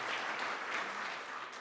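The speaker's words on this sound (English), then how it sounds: "a round of applause" A conference audience gives a round of applause after sponsor thanks, a soft, steady patter of clapping heard from a distance in a large room.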